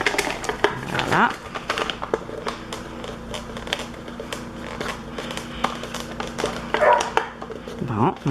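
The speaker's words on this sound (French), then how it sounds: "mon chien qui veut rentrer." A dog barks in short bursts at the door, wanting to come inside, with a few scattered yelps heard over light handling noises.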